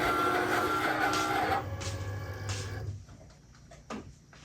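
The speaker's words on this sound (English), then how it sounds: "let the Cricut do its thing by cutting out that design" A Cricut machine cuts a vinyl design. Its carriage whirs and buzzes steadily for a few seconds, then stops, leaving faint clicks and brief motor sounds close by.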